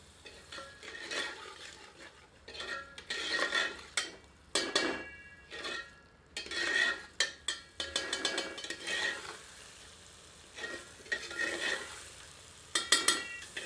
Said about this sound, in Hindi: कपूरों को कीमे में मिलाकर 1 से 2 मिनट मध्यम आंच पर भूनते हैं।